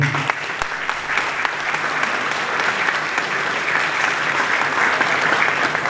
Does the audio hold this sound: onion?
no